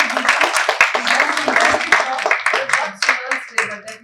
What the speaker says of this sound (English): So give a round of applause for Geeta.